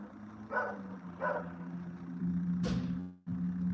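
A dog barks twice in short, clear yelps over a steady engine-like hum, followed by a sharp, louder yip and a brief whine, all close by without speech.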